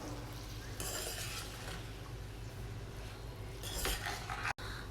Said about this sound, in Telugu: రైస్ వేసిన తర్వాత ఇదంతా కూడా సిమ్లోనే ఫ్రై చేసుకోవాలండి.